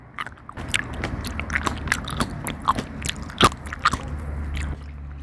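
Crisp, juicy crunches from someone biting into Landis grapes up close, repeated bites and chewing with sharp snaps over a steady low hum, no talking.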